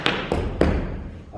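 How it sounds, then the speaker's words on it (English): Three quick hard-soled taps on a wooden floor, a four-sound tap dance cramp roll, a fast rolling rhythm of heel and toe strikes with a short ringing room echo. "4-sound cramp roll, what I call normal cramp roll"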